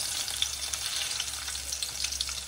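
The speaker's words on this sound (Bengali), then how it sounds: "তারপর রসুনগুলো দিয়ে দেবো।" Garlic sizzles and crackles in hot oil in a pot on the stove, a steady bright frying hiss with small pops, close and alone without voices.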